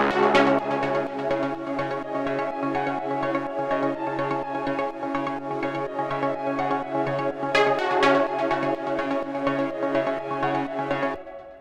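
Layered melodic techno instrument group built in Ableton with Serum, with a thick, fat layered bass under sustained synth chords and a steady pulsing rhythm, loud and continuous before cutting off near the end.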